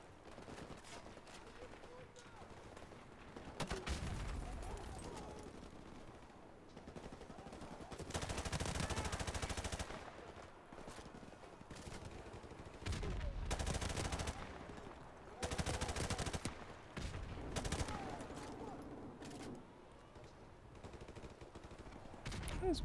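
Gunfire in Modern Warfare Remastered, with bursts of automatic shots coming in loud, intermittent clusters between quieter stretches, and a player talking over some of it.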